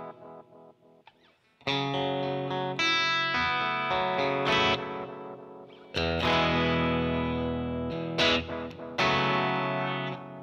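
Electric guitar played through a Mythos Oracle analog echo pedal set with all knobs near noon, sustained chords and picked notes with audible repeats trailing behind, loud and close with no talking.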